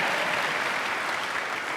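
Church congregation applauding during a service, a dense, even wash of clapping from many hands, loud and continuous with no break.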